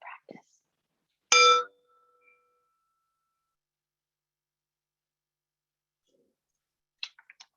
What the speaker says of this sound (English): we'll start again with the sound of the bell at the beginning and end of the practice